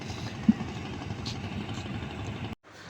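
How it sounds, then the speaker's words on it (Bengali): A trawler boat's engine chugs steadily on floodwater near Sadapathor, Bholaganj, Sylhet, a low, continuous mid-distance drone that cuts off abruptly near the end. "এই যে ট্রলার একটা দেখেন যে মাঝখান দিয়ে আইতেছে"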